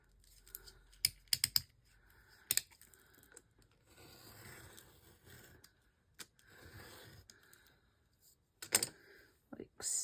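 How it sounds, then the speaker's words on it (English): A craft blade drawn along a ruler to trim material, heard as quiet scraping and a series of sharp clicks and taps close by, spaced irregularly with soft rustling between. "I'm going to use my blade and a ruler and trim this"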